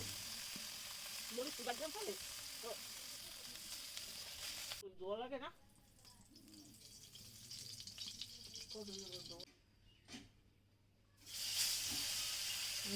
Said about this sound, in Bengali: এদিকে মাছগুলো ভাজা প্রায় শেষের দিকে